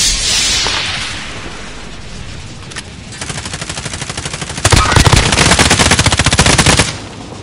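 Automatic gunfire rattles at the player in a battle royale video game: a fast, steady burst of close shots, then a louder, sharper sustained stream after a heavy bang, with faint ambience before it.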